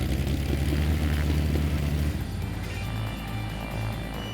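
A Van's Aircraft RV-10 light airplane in flight gives a steady engine and propeller drone that shifts in tone partway through.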